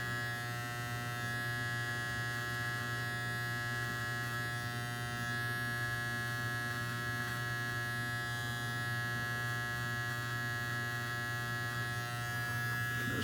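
An Andis T-Outliner electric hair trimmer runs continuously while cutting and shaping hair corners, a steady high-pitched buzz with a constant motor hum, close and fairly faint, with no talking.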